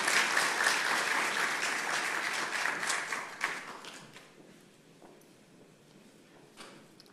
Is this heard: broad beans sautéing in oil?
no